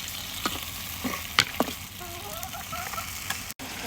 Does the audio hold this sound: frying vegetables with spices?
yes